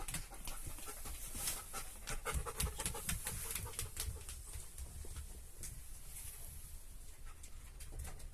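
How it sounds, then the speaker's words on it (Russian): A dog pants steadily aboard a long-distance passenger train from Bishkek toward Samara during border passport control, a quiet, rhythmic breathing that continues throughout against faint background cabin noise. "Там сейчас собака будет проходить."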